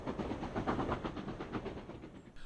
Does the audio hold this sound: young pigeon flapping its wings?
no